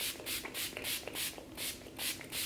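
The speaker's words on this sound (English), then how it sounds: "So I'm gonna go in and set it all with my makeup setting spray." Makeup setting spray mists out in a rapid series of short, airy bursts, about eight even pumps close up and otherwise quiet.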